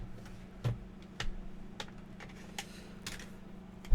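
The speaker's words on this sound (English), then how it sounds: "put my keyboard away." A computer keyboard is handled and set aside during a camcorder review, giving a few faint scattered clicks and soft knocks over a steady low hum, with no talking.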